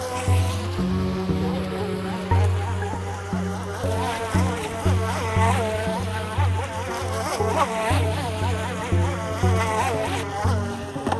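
Small UDI Bullet and Tempo RC high-speed racing boats buzzing over choppy water, a continuous whiny insect-like motor drone that rises and falls in pitch as the boats turn, loud and close throughout.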